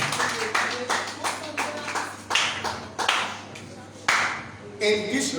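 Church congregation clapping for Jesus during a revival service, a run of sharp hand claps in loose bursts, some sparse and some bunched, with a preacher's voice sounding between them.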